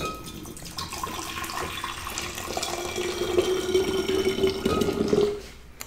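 Boiling water is poured into a container in a steady, continuous splashing stream that rises slightly in pitch as it fills, then stops abruptly near the end.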